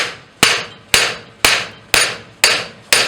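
Steady, evenly spaced hammer strikes with sharp metallic ring and short decay, forging the horns of a railroad-bolt anvil held in a vise; six close, loud blows and no voices.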